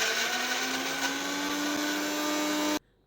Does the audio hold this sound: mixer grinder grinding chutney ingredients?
yes